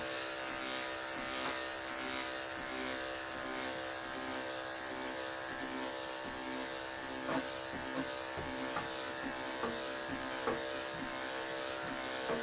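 An electric shaver gliding across medium pile faux fur, a steady close-up electric buzz with a rich humming drone, broken now and then by slight clicks as the blade catches the pile.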